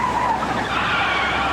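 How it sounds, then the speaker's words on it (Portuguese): Tires squeal in a long, loud, continuous skid as a car slides on the road, close and steady, heard alone in a radio traffic-safety spot. "Chefe está derrapando."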